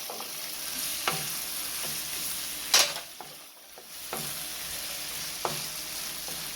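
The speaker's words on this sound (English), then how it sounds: "Stir this around, and I'm going in with my okra" Blanched okra added to Jamaican-style saltfish and stirred in a pan, steady sizzle throughout with spaced spoon scrapes and one louder clatter as the okra goes in.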